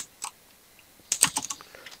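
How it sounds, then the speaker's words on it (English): Light, quick keystrokes on a computer keyboard, a couple of isolated taps followed by a short rapid flurry, fairly close and quiet. "I still love this keyboard."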